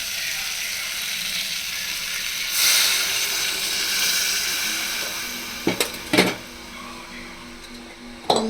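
A soft, steady sizzle swells briefly as water is added to a hot frying pan for bone soup, followed by a few sharp clinks and clatters near the end.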